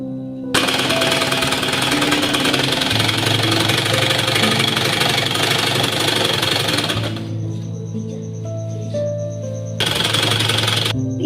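An electric sewing machine stitching a child's designer shirt runs in a steady, fast mechanical rattle for several seconds, pauses briefly, then starts again; no talk is heard.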